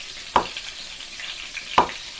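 Bacon and onion fry in a pan with a steady broadband sizzle, broken by two sharp spatters or utensil scrapes about a second and a half apart, close and moderately loud.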